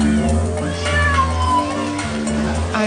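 Homeless, stray and feral cats at a spay-neuter clinic's prep station: several loud, overlapping meows and drawn-out wails from close by, continuing without pause over a low background hum.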